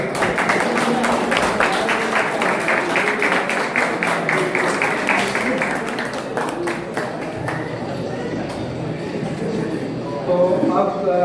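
Loud, sustained applause from an audience at a pigeon club prize distribution ceremony in Ranchi, a dense wash of clapping that keeps going throughout, with voices mixed in near the end.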